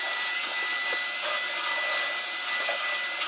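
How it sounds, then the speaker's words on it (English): A vacuum cleaner runs steadily while cleaning along the perimeter of a caulked door frame, a continuous close, loud whine with a broad hiss and slight shifts in pitch as the nozzle moves around the frame. "vacuum on and around the entire perimeter of the frame"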